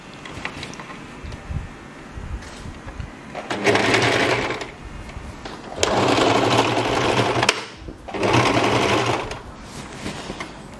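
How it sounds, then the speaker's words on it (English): Sewing machine stitching and backstitching wig hair onto a wig cap, running in three loud bursts of rapid whirring separated by quieter pauses. "So you start to sew and backstitch."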